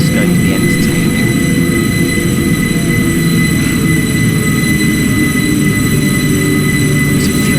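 Class 365 electric train in Train Simulator 2017 heading from King's Cross toward Peterborough, its motors giving a loud steady whine over constant rumbling rail noise, unbroken and without voices.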